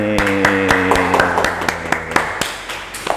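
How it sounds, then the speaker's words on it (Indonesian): An audience claps in a steady rhythm, sharp hand claps repeating about four times a second at an indoor talk event, while sustained musical tones fade out beneath them. "mari kita kasih tepuk tangan dong buat Mbak Ani."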